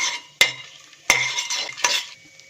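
Broken cashew nuts frying with whole spices in a pan for green peas pulao, with a few sharp metallic spoon scrapes and clinks against the pan over a light, crackling sizzle.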